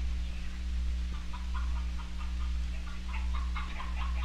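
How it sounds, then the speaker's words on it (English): A hen sitting on her nest in a hen house on a 1963 family dairy farm, soft intermittent clucks over a steady low hum, faint and somewhat distant. "This hen is sitting on her nest."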